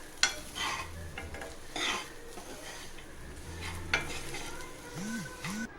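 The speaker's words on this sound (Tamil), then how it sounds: "நல்லா ஃப்ரை பண்ணிக்கலாம்" Cassava being stir-fried in a pan with coconut, cashews and figs, a quiet sizzle broken by a few bursts of spoon scraping and stirring, with a faint tonal squeak near the end.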